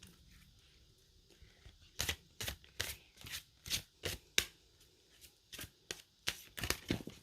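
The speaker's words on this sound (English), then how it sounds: "So I'm going to go ahead and shuffle" Tarot cards being shuffled, a series of sharp riffling bursts roughly every half second, close and fairly loud, with a quiet lead-in before they start.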